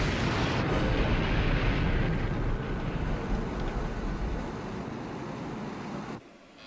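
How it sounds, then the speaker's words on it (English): A film explosion over the Kara Gulf in Firefox from 1982, a massive roaring blast that rumbles continuously for several seconds, slowly fading before cutting off abruptly near the end. "An explosion over the Kara Gulf."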